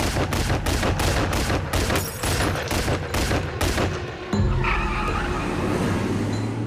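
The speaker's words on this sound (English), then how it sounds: "the arm came out and the gun just started firing" Gunfire from a drive-by shooting at a car in the street, a rapid burst of loud, closely spaced shots followed by a lower rumbling roar of a vehicle.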